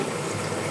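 Water pours steadily into a pan of tangra fish curry cooking in spiced oil, a continuous close rushing gush with no talk.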